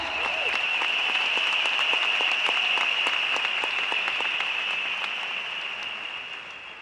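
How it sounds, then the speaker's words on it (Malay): Audience applause fills a hall at an awards night, a sustained, dense roar of many clapping hands at steady volume that slowly tapers toward the end. "Jadi di sini saya jemput tepukan Anda"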